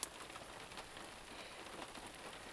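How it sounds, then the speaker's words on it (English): Icy rain patters steadily on a poncho outdoors, a dense, even hiss of drops with no talking. "This rain is actually getting to be a little icy almost."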